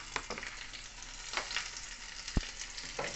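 Garlic and chili fry in hot oil with a soft continuous sizzle, marked by a few sharp spatters and stirring scrapes.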